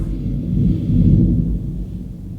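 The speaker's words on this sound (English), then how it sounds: "Did you hear that? It's thundering. There's lightning." Deep thunder rumbles through a storm, a low continuous roll that swells in the middle and slowly fades, with no voices.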